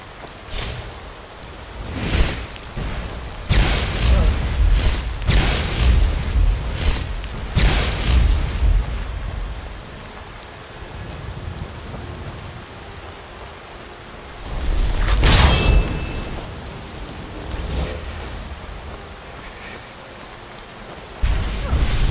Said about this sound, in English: Lydia, don't stand next to them when they're getting ready to explode